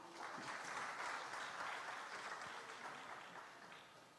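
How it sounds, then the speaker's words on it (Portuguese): Church congregation applauding together, a sustained wash of clapping that is fairly distant and quiet, tapering slightly toward the end. "Aplauda o Rei."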